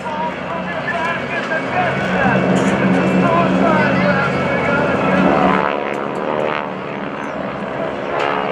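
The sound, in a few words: GEICO Skytypers propeller planes flying at airshow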